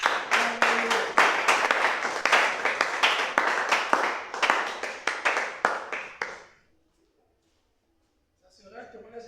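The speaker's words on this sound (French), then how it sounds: "On applaudit." Audience in a church service clapping in a fast, even rhythm of sharp individual claps for about six seconds before it stops abruptly into silence, then faint voices return.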